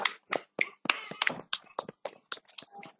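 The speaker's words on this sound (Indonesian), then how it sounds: "beri aplaus bersama-sama" A short round of applause at a teachers' dissemination session: about a dozen crisp, separate handclaps in an uneven rhythm, close and sparse rather than a full crowd roar.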